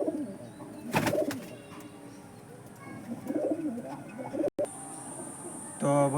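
Pigeons coo softly in a loft housing several breeds, including white-headed and kalenga birds, with low murmuring calls coming and going and a louder burst near the end.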